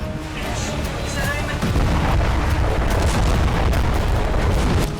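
Hezbollah rocket strikes hit northern Israel with a continuous heavy rumbling roar of blasts, loud and dense, with low booms rolling on and no clear gaps.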